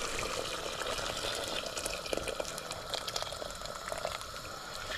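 Boiling-hot water, about two and a half glasses, poured straight into a pressure cooker of beef biryani, giving a steady close rush of splashing liquid that runs the whole time with no voices.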